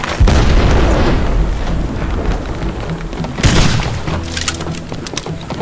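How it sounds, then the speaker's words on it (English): Heavy booming blasts of pirate ship cannon fire in a video game, a dense barrage of explosions with rumbling aftershocks, loud and close. "Fire the right cannons!"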